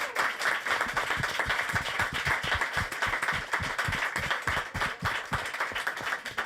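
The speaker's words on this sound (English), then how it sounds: "Let's give them a nice round of applause." Sustained audience applause at a panel session of a conference, dense and steady clapping from a crowd throughout, with no voices over it.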